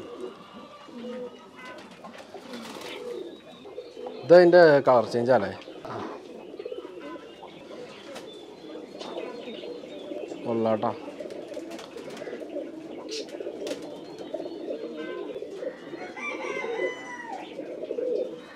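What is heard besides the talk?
pigeons cooing on a farm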